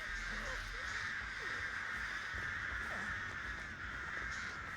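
Crows cawing inside the Dead by Daylight video game, several rough caws over a constant droning ambient tone, fairly quiet.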